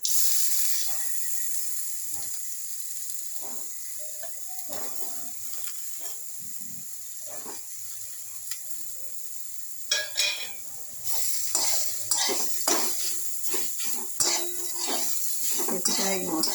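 Green papaya goes into frying spices and is stirred, making a soft steady sizzle broken by scattered scrapes and clinks of a utensil in the pan, growing busier and louder in the second half; a voice talks over it.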